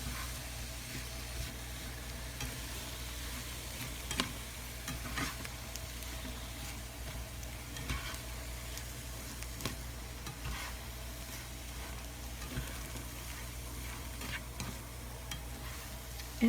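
Cauliflower rice and vegetables fry in a pan with a steady soft sizzle and hiss, with occasional faint stirring scrapes throughout.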